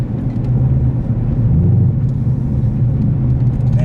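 A 2017 Chevrolet Camaro ZL1 engine pulls hard under partial throttle, a loud, steady low rumble with a continuous drone filling the cabin and no break in the sound.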